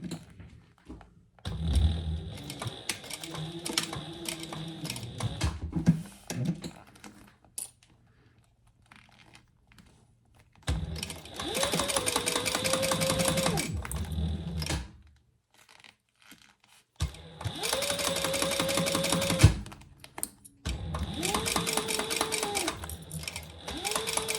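A sewing machine stitches eyeglass case pouches in several bursts of rapid, buzzing mechanical chatter, separated by quiet pauses and fabric handling, with a rising and falling whine as the motor speeds up and slows.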